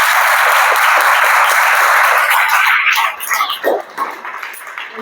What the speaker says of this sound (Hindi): तो एक बार इनके लिए ताली होना चाहिए।